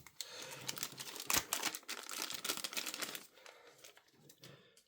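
A paper instruction leaflet from a Beyblade X Takara Tomy toy box is handled and unfolded. The crinkling and rustling are close and irregular, with sharper crackles in the middle, before the sound fades to softer handling with no speech.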